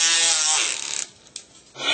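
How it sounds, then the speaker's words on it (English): Electric nail drill filing acrylic nails during a fill-in, giving a steady high-pitched whine that runs alone for about a second before cutting off, followed by quiet scraping and a brief return of the whir at the end. "So I'm going to cut my drill off."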